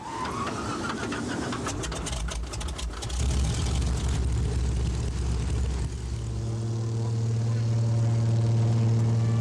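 A float plane's propeller engine roars steadily near Juneau, Alaska, rising in power before settling into a loud, droning hum with a strong low tone. Voices may be faintly present.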